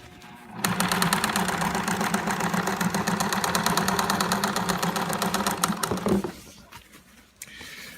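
A sewing machine runs steadily for about five and a half seconds, stitching a rubber sheet to canvas for a ribbed neck gasket on a Death Trooper or Stormtrooper costume, with a rapid even motor hum and needle chatter, then stops abruptly.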